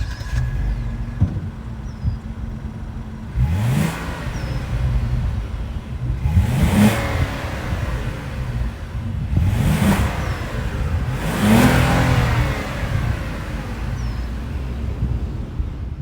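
A 2025 Kia Carnival's 3.5-liter V6 idles close by and revs four times in evenly spaced pulls, each rising and falling back to a steady idle, with no talking.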